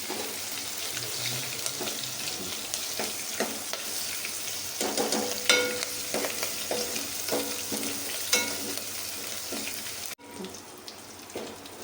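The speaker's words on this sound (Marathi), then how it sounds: "मिरची चांगली तळली गेलेली आहे।" Green chillies and coarse garlic paste fry in a pan for dhaba-style dal fry, giving a loud, steady sizzle with close stirring scrapes throughout and no talk.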